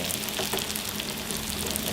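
Banana fritters sizzle in hot oil in a small pan, a dense, continuous crackling fry that stays close and even throughout.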